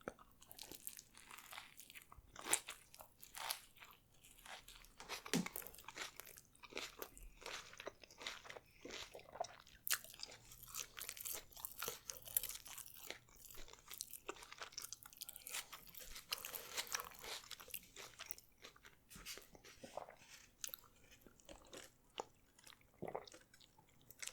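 Someone eats a Burger King Whopper on a sesame bun close up, with steady soft crunching, squishy chewing and occasional crinkles of the wrapper, quiet and continuous with no talking.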